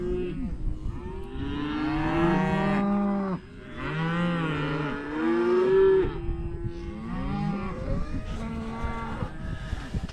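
Cows and calves on a farm moo loudly and repeatedly, the long, overlapping calls of several animals filling the air close by, with no talking.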